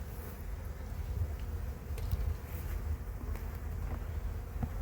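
Honeybees clustered together in a hive on a near-freezing night, giving a steady low buzzing hum with a few faint clicks over it, continuous and close, with no voices.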